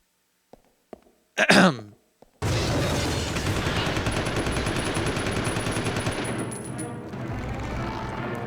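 A submachine gun in Resident Evil 0 fires at hunters in a long, sustained automatic burst after a few short noises and a brief vocal sound.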